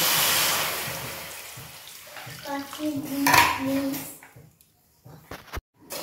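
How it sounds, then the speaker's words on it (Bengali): Water is poured into sugar in a cooking pan to make syrup for a sweet, a close splashing pour that swells and then stops, followed by a few sharp clinks of utensils against the pan. "এবার আমি এর মধ্যে জল দিয়ে দেবো।"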